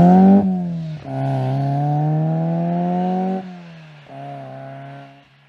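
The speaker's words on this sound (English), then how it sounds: "Also drove the surprising Skoda with the K-Series engine" A Skoda car fitted with a Rover K-Series engine runs close by, its engine droning steadily with shifts in pitch, a brief dip and a lower steady hum near the end.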